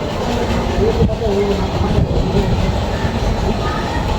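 A local passenger train rumbles steadily close by at Thiruninravur, India, with a dense low roar and faint squeals, and voices murmur underneath throughout.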